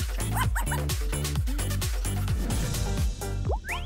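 A small dog barks repeatedly in quick, loud yips, close by, then slips into high whimpers toward the end, with no talking.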